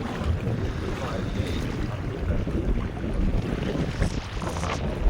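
Strong wind gusting over open water at a fishing harbour, a steady rushing roar with microphone buffeting and low rumble throughout, no talk.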